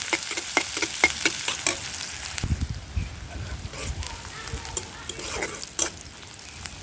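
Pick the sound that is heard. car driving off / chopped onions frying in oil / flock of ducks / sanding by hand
chopped onions frying in oil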